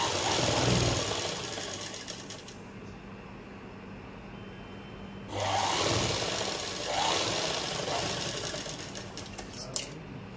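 Sewing machine running in sustained bursts while stitching the back pleat of a kurti, with a short pause and restart partway, a steady mechanical whir close by.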